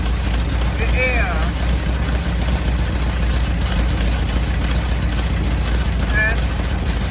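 An old Volkswagen Beetle engine idles steadily through carburetor adjustment, a constant low rumble that fills the whole stretch, with a voice talking briefly over it.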